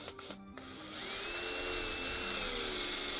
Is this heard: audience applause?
no